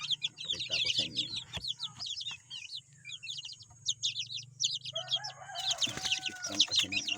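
Chickens at a backyard coop with young stock cluck and crow in dense, overlapping bursts, fairly close and loud, with a rooster's crow rising near the end over steady low background hum.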